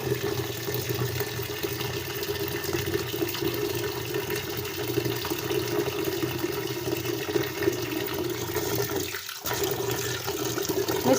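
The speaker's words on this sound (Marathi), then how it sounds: "आता याच्यात मी पाणी भरून ठेवणार आहे" Water runs steadily into a container of wheat being soaked, a continuous rushing pour that stops briefly near the end, then resumes.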